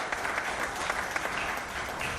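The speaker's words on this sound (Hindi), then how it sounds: "आप लोग कृतल ध्वनि से तालियों से उनका स्वागत करें" Audience applause welcoming Shri Ravindra Kopargaonkar at a Hindi-language gathering: a brief, steady rush of many hands clapping together, moderately loud and continuous without pause.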